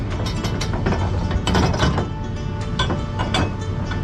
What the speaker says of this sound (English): you gotta be really careful when you're tightening these straps down on these things